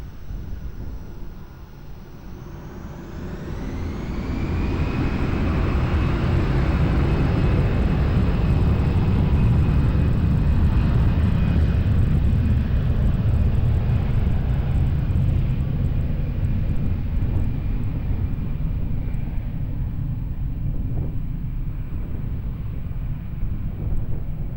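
An airliner takes off from runway 20 at Lisbon Airport, its jet engine roar swelling to a loud, steady broadband rumble with a rising whine, sustained for many seconds before easing slightly.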